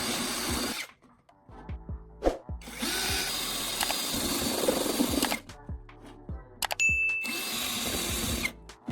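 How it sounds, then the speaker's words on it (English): A power drill with a step drill bit whines in several bursts with short pauses between, biting loudly into the metal of a paint can with scraping and a brief high ring. "using a step drill bit to create several holes around the bottom edge."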